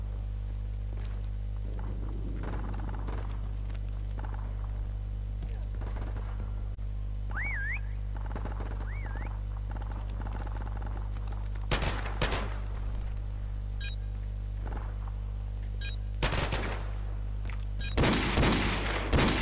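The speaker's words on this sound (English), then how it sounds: "What are you shooting down the drain for?" Gunfire in Call of Duty Modern Warfare Remastered prop hunt, scattered shots over a constant game hum, with dense bursts of automatic fire near the middle and a loud cluster toward the end.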